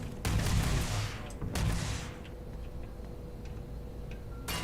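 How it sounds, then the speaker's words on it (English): Energy grenade rifle fire from a penumbra weapon in the Starfield video game: two heavy booming bursts close together, each trailing into a rumbling decay, then scattered faint ticks and a sharp hit at the end. "That's a penumbra. It's like an energy grenade rifle."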